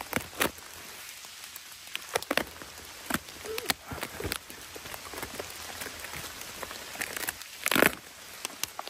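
Rain pelting down during a storm at a car campsite, a steady near patter with scattered sharp drops and crinkly hits, and one louder burst of drumming near the end.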